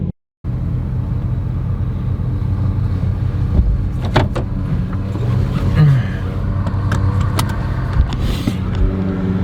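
A car driving on a road, steady low engine rumble and road noise throughout after a brief silent start, with a few faint clicks and knocks inside the cabin.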